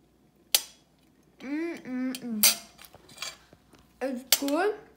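Cutlery scrapes and clinks against a plate while fluffy buttermilk pancakes are cut, with a sharp initial clink, then several short squeaky knife strokes and taps, close and fairly quiet.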